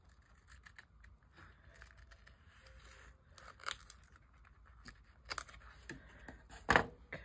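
Scissors snip through paper for a vintage glue book craft, quiet close crisp cuts and rustles that grow sharper toward the end, with no talking.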